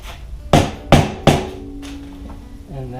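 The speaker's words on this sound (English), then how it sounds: "Get a nice little hammer" Three sharp, evenly spaced taps of a small hammer driving a 3/8 inch wooden plug, close and distinct, then a quiet ringing tail and a brief faint voice.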